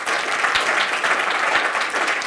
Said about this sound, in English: give a warm applause for our panelists